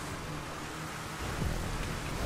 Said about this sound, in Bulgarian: то вали дъжд, става мазало.